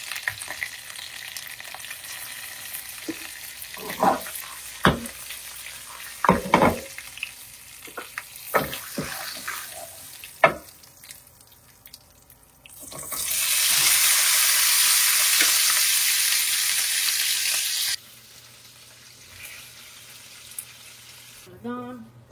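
Spices tempered in hot oil in a pan, a burst of loud sizzling and crackling lasting several seconds that cuts off abruptly, preceded by scattered kitchen clinks and knocks.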